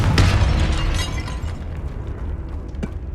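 A Confringo blasting spell explodes in Hogwarts Legacy, a loud booming burst with a sharp crack near the start and a rumbling tail that lingers, followed by a smaller second impact near the end.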